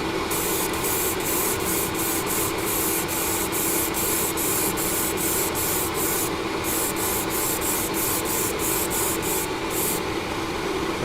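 Airbrush spraying a silver coat of Vallejo surface primer over white primer, a steady close hiss broken by regular short pulses of stronger spray, with no speech.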